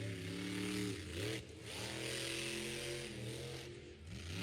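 A monster truck engine revs hard and loud while the truck spins a donut at a 2025 Monster Jam-style show in Wheatland, Missouri, its throaty roar dipping and climbing in pitch over a few seconds.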